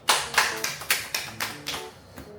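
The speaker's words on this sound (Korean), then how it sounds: "박수!" Hand clapping: seven crisp, close claps at an even, brisk rhythm, each sharp and distinct, the last one softer, with no talking.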